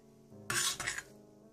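Cooked khoya being scooped from a pan into a dish: a short scraping rasp of a utensil against the pan, two quick strokes, close and fairly quiet.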